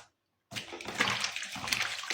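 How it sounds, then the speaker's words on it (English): Fresh water pours and splashes into a pedicure basin for rinsing legs, a steady close rushing and sloshing that starts abruptly after a brief silence and runs on alone. "So watch us change this water to rinse the legs."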